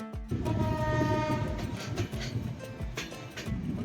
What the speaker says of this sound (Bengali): কিছুক্ষণের মধ্যে আমাদের train slow মোশনে Abdulpur junction through pass করছে